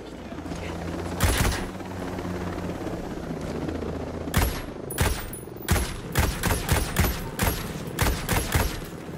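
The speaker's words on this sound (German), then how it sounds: "Feindlicher Heli gesichtet. Deckung suchen." An armored enemy helicopter in Ghost Recon Breakpoint rotors overhead while firing bursts of heavy gunfire, shots arriving loud and repeated, some in quick clusters over a constant engine drone.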